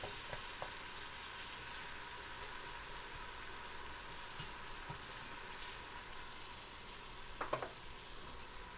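Onions frying in a pot for pork stew give a soft, steady sizzle, fairly quiet and continuous, with a few light clicks and a brief utensil clatter near the end.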